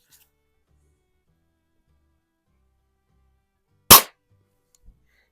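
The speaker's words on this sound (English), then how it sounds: "great shooting, smooth bore, 177 caliber break barrel pellet rifle from probably right around 1900" Single sharp crack from a Daisy 1889 first model air rifle, a smooth bore .177 caliber break barrel pellet gun from around 1900, fired once in near silence, followed by a faint thud of the pellet striking a target.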